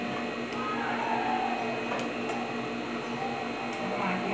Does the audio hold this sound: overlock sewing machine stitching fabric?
yes